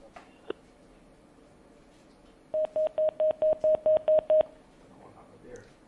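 A phone line on a radio call-in show cuts off with a quick run of about eleven rapid beeping telephone tones, loud and evenly spaced, over faint background noise.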